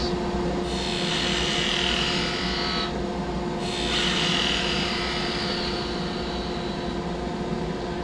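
Skew chisel taking planing cuts on a spinning wooden top handle turning on a lathe, a steady hiss of shaving in two long passes over a constant motor hum, with no talking.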